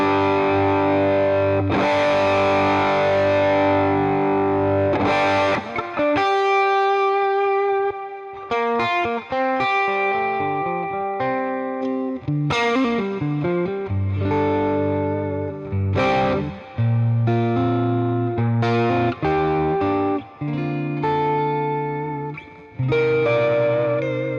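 Electric guitar played through a cranked Fender Deluxe Reverb blackface-style amp model in a Fractal unit, giving distorted chords and melodic lines with a touch of reverb, loud and continuous with brief pauses, no talking.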